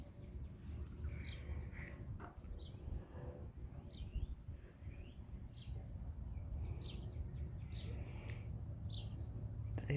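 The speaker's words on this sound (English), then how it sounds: "We have birds in the garage." Small birds inside a garage give repeated short chirps and tweets, faint and scattered through a quiet, slightly noisy room, with no talk.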